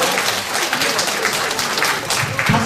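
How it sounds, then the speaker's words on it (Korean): Loud crowd applause at an outdoor civic festival greets a whistling performer, many hands clapping continuously and vigorously, with a few voices mixed faintly into the ovation. "큰 박수로 한번 맞이하여 주시기 바랍니다"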